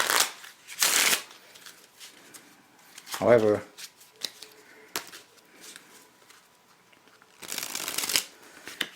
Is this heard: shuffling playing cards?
yes